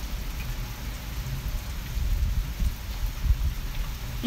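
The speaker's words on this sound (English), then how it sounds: "Nothing to do on a rainy day in Memphis." Steady rain falls outside in Memphis, a constant hiss with occasional heavier drops and low rumble, no voices.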